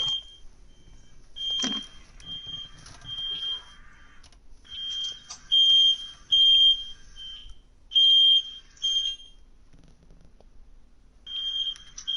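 A fire alarm goes off indoors with repeated shrill electronic beeps. Short bursts and longer sustained tones come in an uneven pattern, loud and piercing against quiet gaps, with no talking over it.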